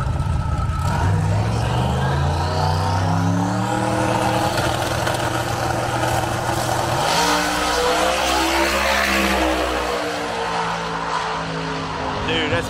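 A drag racing pickup truck at Sick Week roars past at speed, its loud engine note sweeping down in pitch as it goes by, with people talking over it.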